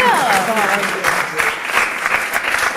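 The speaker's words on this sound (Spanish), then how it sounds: "un aplauso a vuestros compañeros" Classmates at a school event give a short burst of clapping, a dense, lively round of applause from a group filling the whole moment, with a voice briefly audible at the start.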